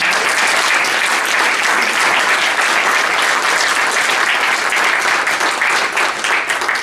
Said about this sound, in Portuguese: Um aplauso para a Luísa.